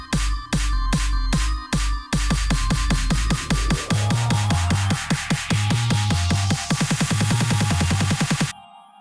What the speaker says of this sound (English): I just added some white noise, like a riser